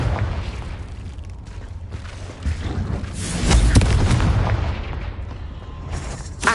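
Confringo blasting spell explosion in a Harry Potter video game, a deep rumbling boom that swells midway and fades into a sustained roar, loud and close.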